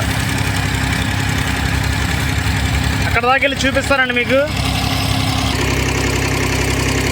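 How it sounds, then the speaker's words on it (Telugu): Water pump motors run at high speed, a loud, steady droning hum that continues throughout while someone speaks briefly in the middle. "మోటార్లు అయితే చాలా స్పీడ్గా పనిచేస్తున్నాయి."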